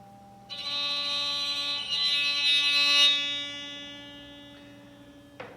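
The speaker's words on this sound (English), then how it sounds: "here's bowing all 3 strings at the same time" A bow drawn across all three strings of the Apprehension Engine at once makes a sustained, eerie droning tone with a buzzy harmonic edge. It swells, then slowly fades, ending with a small knock.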